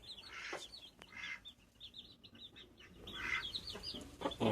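Chickens cluck and chirp at close range, quiet and intermittent, with short repeated calls in bursts over a low background rumble.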